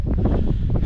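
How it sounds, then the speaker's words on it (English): Gale-force wind buffets the microphone while wild camping in the Lake District hills, a loud, steady low roar with gusty surges and no voices. "it's gale force wind where I'm going"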